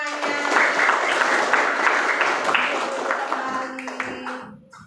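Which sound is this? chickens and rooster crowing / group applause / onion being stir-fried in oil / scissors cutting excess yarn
group applause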